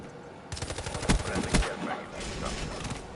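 Rapid automatic gunfire in the shooter Black Ops 3, a close, loud string of cracking shots with a few heavier bangs, continuing unevenly for about two and a half seconds.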